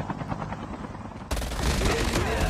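A helicopter in a first-person shooter video game, its rotor roar dense and loud throughout alongside bursts of gunfire, with a player talking over it.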